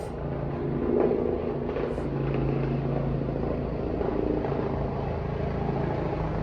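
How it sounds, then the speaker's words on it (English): A helicopter drones close and steady with a deep, throbbing rotor rumble that holds constant and loud throughout. "Low-flying helicopter."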